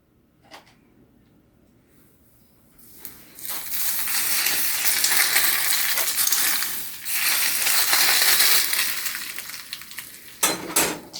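Hot oil poured over garlic and chili noodles bursts into a loud, steady sizzle after a few quiet seconds, crackling on for about seven seconds with a short dip midway, then dying off into a few clinks of cookware.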